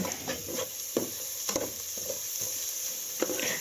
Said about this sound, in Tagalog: lutuin lang natin ang hiniwang sibuyas at bawang